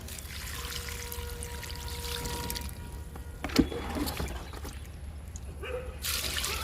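Liquid compost is poured onto a potted lemon plant, a soft continuous splash and trickle that tapers off and then starts again.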